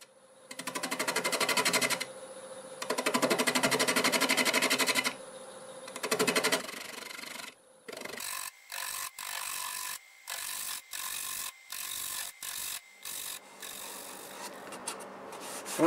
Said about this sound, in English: Got my half inch bowl gouge, and we're just going to slowly